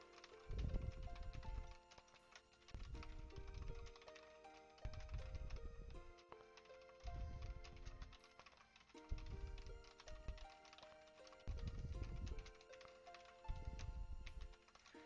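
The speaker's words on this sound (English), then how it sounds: "You guys want to hear some keyboard ASMR?" Computer keyboard typing heard faintly in rhythmic clusters of clicky keystrokes, coming in short bursts with brief gaps over a steady background of game music.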